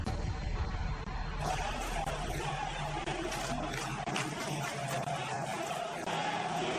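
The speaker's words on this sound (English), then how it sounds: "The big crowd is revved up, and this ballpark may rock as it has never rocked before" Big crowd roaring and cheering at Yankee Stadium as the New York Yankees take the field in the 2004 playoffs against the Red Sox, a dense, sustained wash of noise under a commentator's voice.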